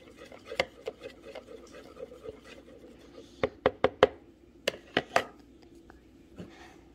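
Wood-glue butter slime being stirred after a pinch of baking soda is added, giving sticky tapping and scraping strokes against the bowl, a burst of several quick knocks near the middle, all close and fairly quiet.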